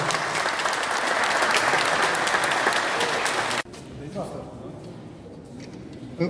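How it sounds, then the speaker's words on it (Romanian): A crowd at a town twinning ceremony gives loud, dense applause for a first signature, then cuts off abruptly into quieter murmuring talk and scattered background sounds. "aplauze pentru semnătură, pentru prima semnătură"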